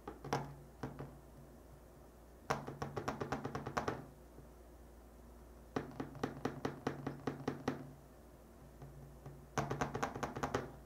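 A Galaxy Z Fold4 in a clear case rocks on a table on its raised camera bump, giving quiet rapid bursts of light tapping clicks, three main rattling clusters separated by short pauses.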